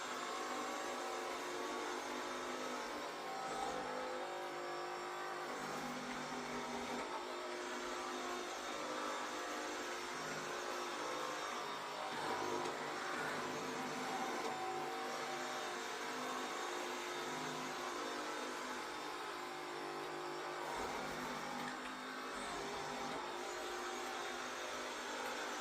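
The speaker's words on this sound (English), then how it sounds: "you can see how the robot vacuum was able to go into each room, kind of scan around, and then continue on." A Roborock S8 Pro Ultra robot vacuum runs through the rooms of a home with a steady, moderately loud whirring hum and faint shifts in pitch as it moves.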